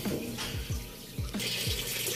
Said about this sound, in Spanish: aquí ya tenía llenando el agua